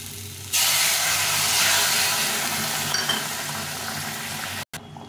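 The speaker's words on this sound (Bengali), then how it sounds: "এখন আমি এখানে জল ফুটে রেখেছিলাম, জলটা দিয়ে দেবো" Boiled water poured into a pan of spiced potatoes frying in masala: after a brief quiet moment a loud, sudden burst of hissing sizzle erupts and stays steady, softening slightly before a short break near the end.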